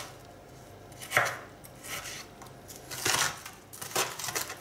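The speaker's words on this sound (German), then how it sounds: "die Ringe schneiden wir uns klein" A knife chops rings into small pieces for goulash, giving several separate cutting knocks spread across a few seconds, moderately close with a quiet background.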